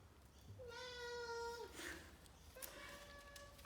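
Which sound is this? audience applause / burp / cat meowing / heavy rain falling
cat meowing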